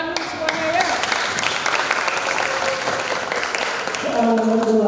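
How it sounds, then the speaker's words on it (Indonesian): An audience at a school quiz competition final at SMK Negeri 1 Amlapura gives a steady burst of clapping that carries on evenly, with a voice speaking briefly over the applause near the end. "Tepuk tangan semuanya ya."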